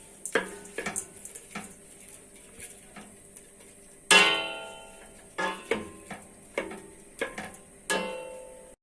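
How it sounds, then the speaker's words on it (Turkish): Peppers and onions sautéing in a pan, a low steady sizzle broken by repeated scrapes and clinks of a utensil stirring against the pan. "Biberleri ve soğanı 5 dakika soteledim."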